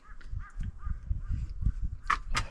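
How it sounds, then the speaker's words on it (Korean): Crows caw on Geumsan mountain in Namhae, a series of harsh, rasping calls repeating close by, followed by two sharper, louder caws at the end, set against low rumbling noise and faint background sounds. "까마귀 겁나 무섭다."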